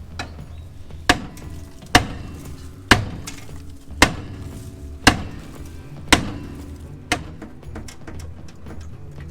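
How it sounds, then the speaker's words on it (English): Hammer blows on a stuck brake drum of a 1966 Ford Galaxie with a 390 big block, eight sharp metallic bangs spaced about a second apart, loud and close, with faint background noise between strikes. "we'll keep bashing this drum and we can smash this drum off"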